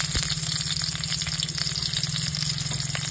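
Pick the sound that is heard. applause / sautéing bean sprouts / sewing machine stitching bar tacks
sautéing bean sprouts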